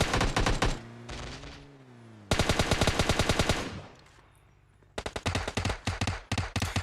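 Rapid bursts of automatic gunfire from the mobile battle-royale game PUBG Mobile Lite, loud repeated volleys broken by short pauses and a low tonal hum, with no talking.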